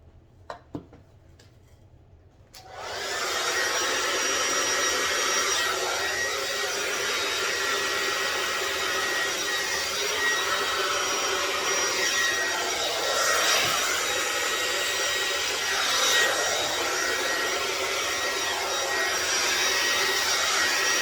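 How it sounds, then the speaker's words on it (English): A heat gun switches on and blows a steady, loud airflow across fluid art paint. The roar holds constant with slight rises in intensity and no voices after a few faint clicks. "with the heat gun"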